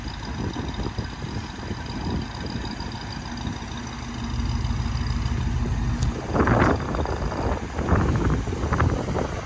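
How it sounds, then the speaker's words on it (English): Low, blustery wind rumbles across the microphone outdoors, with an idling engine beneath it, beside a Chevy K5 Blazer, and stronger gusts buffeting in toward the end. "A little windy today."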